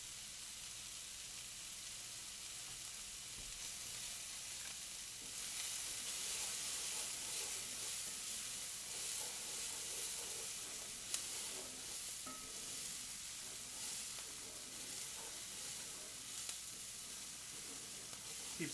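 Vegetables sizzle and fry steadily in a skillet for a shakshuka dinner, with the hiss of hot oil and a few faint scrapes of stirring running continuously throughout.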